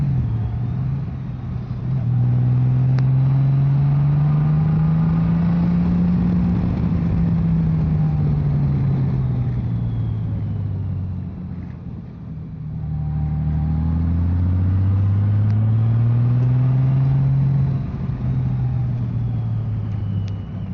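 A Honda Goldwing motorcycle engine rises and falls in pitch through two long swells, revving up and easing off in a continuous, fairly loud drone heard from the rider's position on the road.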